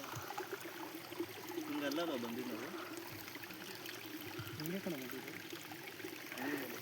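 A stream at Nandi Hills flows steadily, a continuous rushing trickle of water heard close by beneath people talking throughout.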